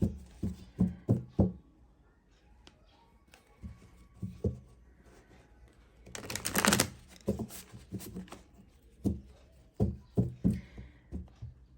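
A tarot card deck being shuffled and handled, with bursts of quick riffling flutters and soft taps, a denser rush of shuffling in the middle, then more clustered card knocks.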